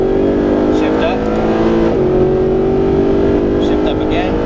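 Mercedes SLS AMG on a track at Exotics Racing in Las Vegas, a loud engine climbing in pitch, dropping sharply at a gear change, then pulling again, heard from the cabin with an instructor speaking over it.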